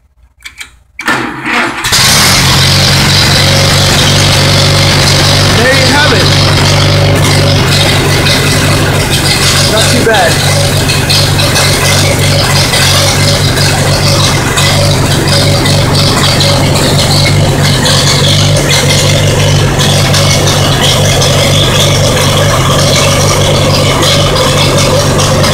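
An Allis-Chalmers tractor engine cranks and catches within a couple of seconds, then settles into a steady, loud, close idle with a low rumble and light rattle that continues throughout.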